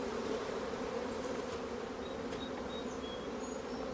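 Honey bees in a hive box at a sheep yard, where cell starters are being set up, hum in a steady, faint drone with no talk over it.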